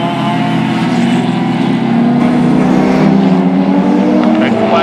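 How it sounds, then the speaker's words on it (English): Closed-wheel race cars roar past at Mission Raceway as the leader overtakes a Datsun 510, several engines droning loudly and overlapping while a commentator talks over them. "Looks like our leader Tracy Pearson making their way past the Datsun 510."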